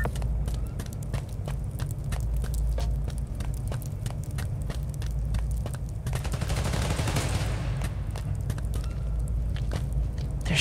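Rapid bursts of video-game gunfire from Marvel's Spider-Man: Miles Morales, sharp repeated shots running steadily through the whole stretch with a denser, louder flurry partway through, busy and close with no talking.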